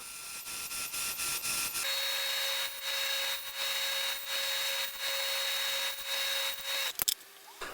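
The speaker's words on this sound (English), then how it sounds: "And then just cutting up the little dividers." Small wooden dividers are cut from 1/8 inch stock with a steady high-pitched power-tool whine running for several seconds, plus near sawing and rubbing noise, rhythmic dips and a brief clatter near the end.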